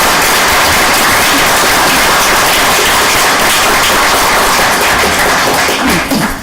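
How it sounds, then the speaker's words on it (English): An audience at a school board of education meeting gives a sustained round of dense applause, loud and even throughout, tapering slightly at the end. "How about another round of applause for our"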